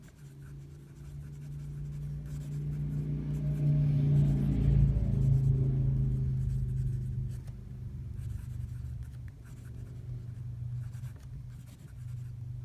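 A James Finniss Lithos fountain pen writes on paper with a continuous soft scratching glide, close and clear, rising and falling through the strokes over a low background hum.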